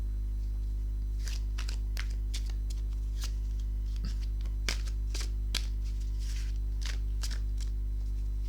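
Tarot cards being shuffled by hand in a quiet room, a series of crisp riffling bursts and soft slaps over a steady low electrical hum, with no talking.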